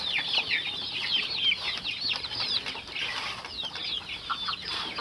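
Free-range native Indonesian chickens, raised alongside black soldier fly maggots, cluck and chatter continuously in a lively flock, with scratchy rustling and occasional flutters, moderately close.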